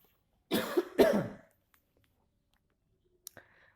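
Two harsh coughs in quick succession from a person recording a high school maths lesson, followed by near silence and a couple of faint clicks.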